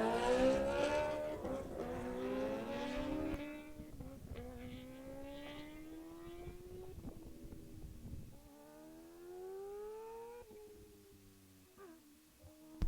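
A 2024 Kawasaki H2R motorcycle pulls away from a standing start, its engine howling loud and close, then climbing through several gear changes as the note rises and drops and slowly fades into the distance.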